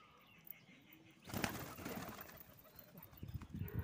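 Pigeons being fed bread on a cement surface burst into a sudden flurry of flapping wings, followed by scattered wingbeats and soft coos close by.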